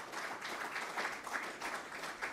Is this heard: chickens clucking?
no